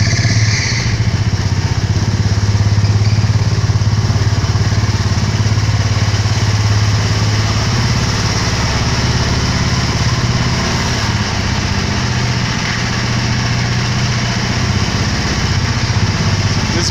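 A hot rod engine idles in neutral, giving a steady, loud, close rumble that runs unbroken throughout with no talk over it.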